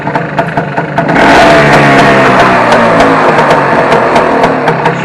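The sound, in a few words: Vespa Stella scooter kick-started, Aceto exhaust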